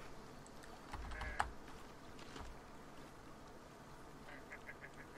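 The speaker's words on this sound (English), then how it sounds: "Those are geese." Geese honking in the survival video game The Forest: a few faint, distant nasal honks near the end, heard over very quiet ambient noise and scattered soft clicks, with no talking.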